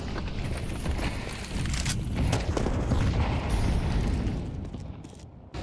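Grenade blast in a Counter-Strike match on the Overpass map, a dense, sustained roar of booming bursts filling several seconds before cutting off abruptly near the end.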